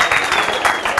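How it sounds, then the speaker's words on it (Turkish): In a hall during a family talk, an audience claps for a moment in a short, lively burst that is close and fairly loud, with no speech over it. "İki aileye de bir alkış rica ediyorum"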